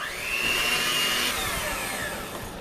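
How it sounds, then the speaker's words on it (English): A blender whirs steadily at medium speed while mixing powdered sugar in a pineapple pie filling, a loud continuous motor hum with a gliding whine that drops in pitch partway through, with no talking. "I'm going to turn my blender up to medium and make sure it's mixed real well"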